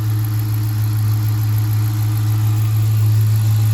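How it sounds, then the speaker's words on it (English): A 2014 Dodge Charger Police Pursuit with a 5.7L Hemi V8, AWD and a K&N intake idles steadily at close range, a deep constant hum with a faint, fine ticking of the valve train layered over it, no talk. "My phone does pick up small engine valve train noise, so sometimes it'll sound a little more ticky than it would in person."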